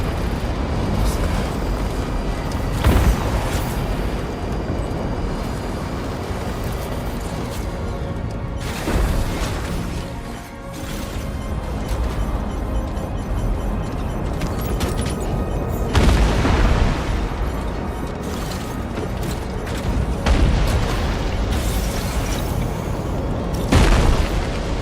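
Fireworks burst in the video game Death Stranding 2, with deep booms rolling out every few seconds over a dense, continuous rumble of game sound.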